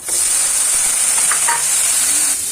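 Mushrooms go into a pan of browned minced garlic, and a loud, close, continuous hiss of frying with light stirring carries on without a break.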